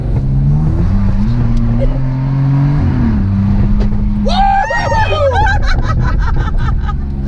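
A 2020 Kia Telluride drives over sand whoops at Camp Kia, its engine droning loudly and shifting pitch as it rises and falls. Partway through, excited whoops and shouts from nearby people break out over the engine.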